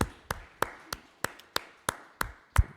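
A church congregation claps in steady unison, about three sharp claps per second, each one crisp and even against a quiet room.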